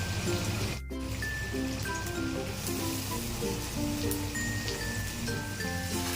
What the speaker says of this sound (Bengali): আমি আলুর মধ্যে পেঁয়াজটা দিয়ে দেবো, পেঁয়াজটা একসাথে ভেজে নেবো